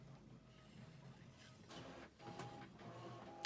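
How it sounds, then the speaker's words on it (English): A home printer whirs while printing, a faint mechanical hum with a few short clicks and a rising tone near the end. "you can hear my printer whirring away"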